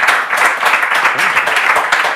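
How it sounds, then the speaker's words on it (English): Clapping from the studio audience at the close of a live-streamed Gil's Arena show, a loud, close, continuous patter of hands in uneven bursts. "Let's go give yourselves a round of applause."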